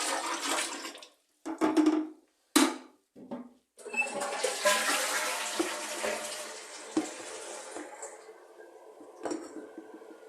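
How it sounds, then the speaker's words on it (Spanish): Dirty water from cleaning a kitchen sink drain is poured into a toilet in a home bathroom, a few short splashes followed by a long, loud continuous gush of water that slowly tapers off, with no talking. "Este agua lo podemos desechar en el váter mismo"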